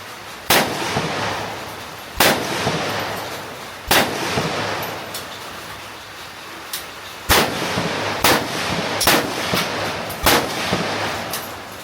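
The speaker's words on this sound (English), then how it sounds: "Got a chance to fire an AK-47, which was just fantastic." AK-47 rifle shots fired one at a time at a shooting range in Ho Chi Minh City, Vietnam, about nine loud sharp cracks spaced irregularly, each trailing a brief echo.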